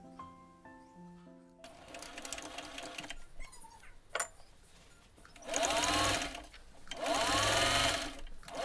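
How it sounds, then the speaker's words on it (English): A sewing machine stitching the underarm seams of a folded fabric sleeve, two sustained bursts of rapid whirring, close and loud, after a short musical tone and quieter handling sounds. "Fold a sleeve piece with right side of the fabric inside and sew the underarm seams."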